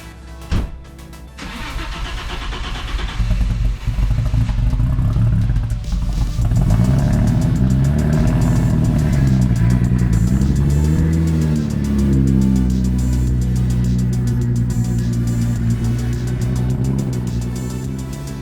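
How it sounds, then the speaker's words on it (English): An Audi S4 running on E85 fuel cranks and catches with a rough, stumbling start, then settles into a loud, uneven idle with wavering revs close by, continuing for a long stretch with no talk. "Prepare for a really rough E85 start since we haven't done this in a while."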